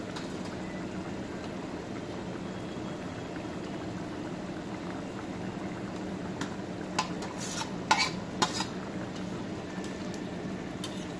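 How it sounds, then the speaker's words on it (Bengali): Jackfruit seeds and dried fish cooking in a pot, a low steady simmering hiss with a few sharp scrapes and clinks of stirring near the end, no voices. "আবার নাড়া দিয়ে দিব। একদম ভাজা ভাজা করব, কোনো ঝোল থাকবো না।"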